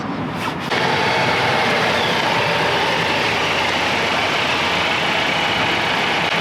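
A Volvo XC40 SUV's engine idles with a steady, even rumble and hiss after a brief click at the start. It carries on alone with no talk.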